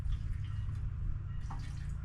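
Sea Foam fuel additive is poured into a Westinghouse generator that would not start after a year in storage, a short close liquid glug and dripping splash, brief and alone.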